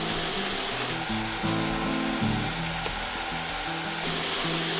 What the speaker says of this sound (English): the sausage is starting to brown on one side